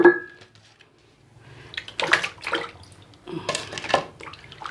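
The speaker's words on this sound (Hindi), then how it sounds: "अब इसको मैं फिर जो दूसरा पानी धोने लगी हूँ।" Fish pieces are washed by hand in a second change of water, with splashing, swishing and dripping sounds. Bursts come in separate bouts, close to the listener, with quieter pauses between them.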